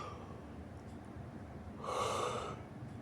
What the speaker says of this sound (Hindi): आई एम सॉरी, मुझे उबासी हो गई